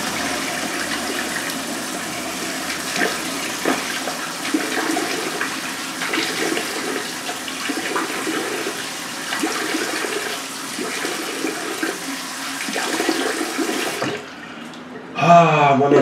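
Water runs steadily from a tap as a face is rinsed after a shave with a Bravo razor and Feather blade, loud and close, then stops with a short clatter at the end.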